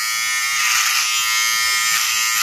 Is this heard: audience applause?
no